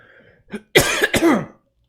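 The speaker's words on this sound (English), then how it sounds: "Excuse me, just clearing my throat." A person clears their throat with a short cough-like rasp followed by two quick, gravelly throat-clearing bursts, close and alone.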